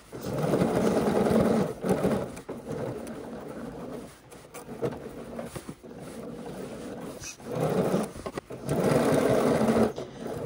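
Sewing machine stitching a seam on a pair of pants with contrasting thread, close bursts of fast whirring stitching broken by short pauses and slower stretches.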